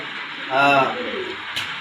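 A pigeon in a caged collection gives a soft, throaty coo close by over a steady hiss of background noise, followed by a short sharp tap.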